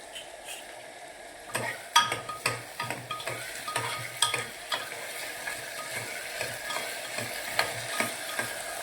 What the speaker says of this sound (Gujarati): કરી નાખો મિક્સ બધું.